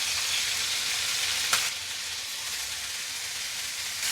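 Food for biryani fries in a pan with a steady, loud, close sizzle and one brief stirring scrape partway through.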